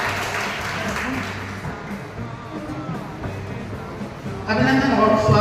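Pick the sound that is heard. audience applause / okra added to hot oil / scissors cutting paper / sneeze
audience applause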